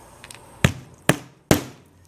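Three sharp, evenly spaced hammer blows drive nails into metal flashing around a skylight on a roof, close and loud with quick decays and no talk.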